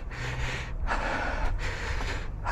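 Heavy, labored breathing from a trail runner climbing stairs on a 12 km mountain route, close to the microphone, with rhythmic gasping inhales and exhales repeating over a few seconds.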